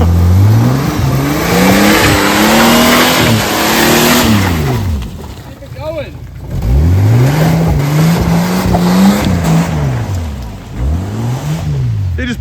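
A 3-inch lifted Ford AU Falcon drives off-road, its engine loud and close, revving up and down in repeated sweeping surges, with a brief lull in the middle before climbing again.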